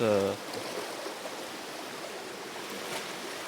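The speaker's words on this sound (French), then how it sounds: "Donc voilà votre rendez-vous de tous les jours, la rivière. Je vous filme un petit peu comment elle est aujourd'hui." A river flows steadily as a continuous, moderately loud broadband rush, with a brief voice at the very start before the water carries on alone.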